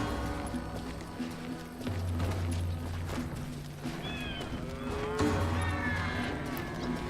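Several deep cow moos ring out over a steady soundscape of ambient rumble in the video game Call of Juarez: Gunslinger, with a couple of higher chirping tones drifting in around the middle.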